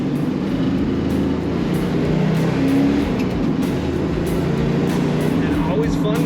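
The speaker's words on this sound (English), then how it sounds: "always fun to push the throttle" A 1970 Plymouth 'Cuda hardtop with a V8 engine and hood scoops revs steadily nearby, a continuous throaty engine drone that rises slightly midway through.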